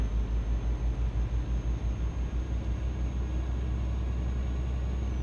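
A truck cruising in Euro Truck Simulator 2 on the road toward Hamburg, with a steady low engine drone and rumble that pulses slightly at first and then holds even, with no talk.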